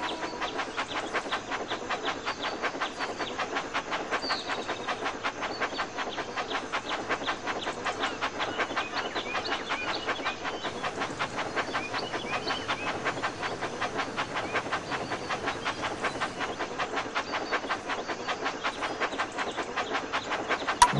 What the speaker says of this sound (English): Look how wonderful your train set is.